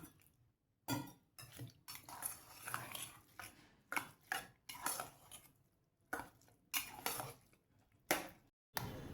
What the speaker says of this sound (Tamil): பால் ஊற்றி நல்லா கிளறியாச்சு